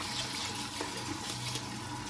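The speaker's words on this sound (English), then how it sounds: "We should wash this sushi rice till all the milky water come out." Sushi rice is swished and rinsed in water in a small pot, giving a soft, continuous sloshing and trickling at close range with no voices.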